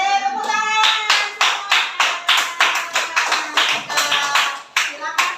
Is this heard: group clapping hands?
yes